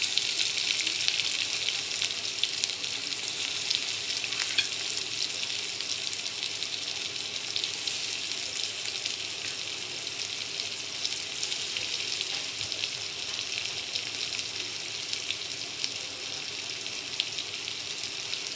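Onion frying in a pan with hing, a loud, steady, close hiss of sizzling oil running continuously without talk.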